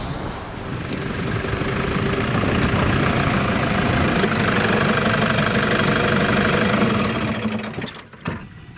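A vehicle engine drones steadily and close while driving toward a farm in the snow, a loud, even hum that fades out near the end.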